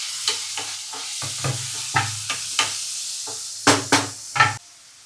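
Pieces of tomato stirred and sautéed in a pan for a home-style Agri dish, giving a run of short scraping, sizzling bursts with a soft hum underneath, close and moderately loud, and no voices.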